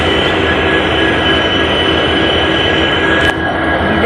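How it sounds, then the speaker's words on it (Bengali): A train stands at a station, a loud steady rumble and hum from the carriage with a faint squeal, with no talking. "আমরা এখন ট্রেনে দাঁড়িয়ে আছি স্টেশনে"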